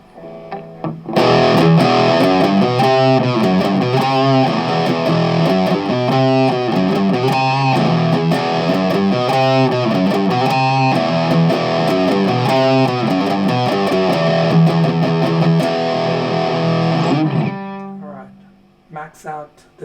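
A guitar runs through a Boss DS-2 Turbo Distortion pedal in turbo mode, with the distortion set around three o'clock. Loud, gritty chords and riffs play continuously for about sixteen seconds, then cut off into a few brief trailing sounds.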